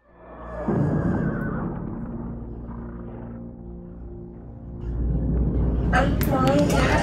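Horses neigh in a scene from the 1982 fantasy film The Beastmaster, a loud whinny rising over rumbling score and effects, with a second shrill burst near the end.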